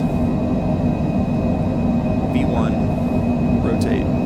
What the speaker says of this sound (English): And we'll advance all the way to takeoff thrust.